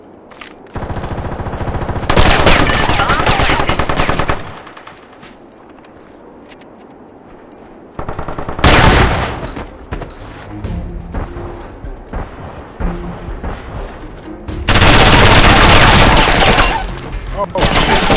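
Loud automatic gunfire in the video game Socom comes in three long, dense bursts separated by quieter stretches of scattered shots and game noise.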